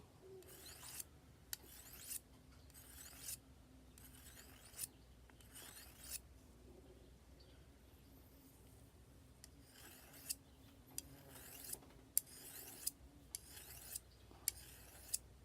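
A knife blade drawn again and again along a sharpener, giving a series of rhythmic, rasping strokes in two bursts with a quiet pause between. Sharp clicks mark the end of several strokes, and no one speaks.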